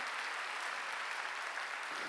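Congregation applauding during a Wednesday church worship service, a continuous wash of many hands clapping together, fairly faint and even for a brief stretch.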